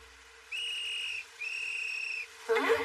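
A whistle blown in an anime gives two sustained, shrill, steady blasts separated by a short gap, clear and fairly close, followed by a brief burst of other sound.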